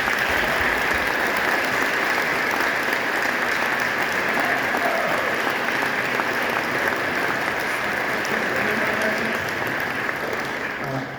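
Steady, dense applause from a university concert audience welcoming a composer at Rowan University's WindFest, a continuous wash of clapping that holds evenly throughout.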